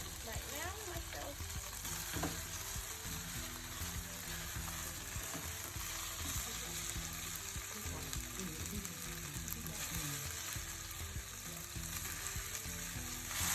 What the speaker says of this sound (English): just frying the chicken in the coconut oil, as you can see